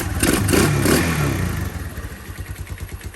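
Yamaha DX motorcycle engine idles low with a rough, lumpy putter after a louder rev at the start, close and steady.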